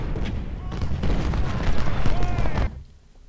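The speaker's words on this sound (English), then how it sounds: "You guys, just shoot them." Massed musket fire crackles in a Civil War battle in Ultimate General: Civil War, dense overlapping pops and booms forming a continuous rattling volley that drops away abruptly, with a voice talking over it.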